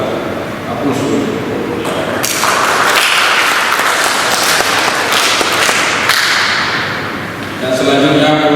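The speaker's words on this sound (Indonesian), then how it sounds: "Aplaus dulu." An audience at a yudisium graduation ceremony for the art and design department of ISBI Aceh applauds in a dense, steady burst of clapping lasting several seconds, with a voice briefly heard at the start and end.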